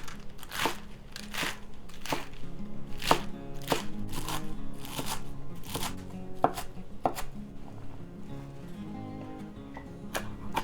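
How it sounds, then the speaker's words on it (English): A knife chops lettuce on a cutting board in a brisk, uneven series of crisp thuds, close and clear, gradually slowing toward the end. "I'm also going to chop some lettuce for our bowl."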